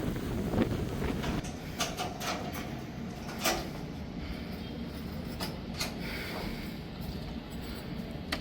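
A cool breeze blows outdoors in Bangalore, producing steady rushing wind noise that buffets the microphone, with a few scattered clicks and knocks and no talking.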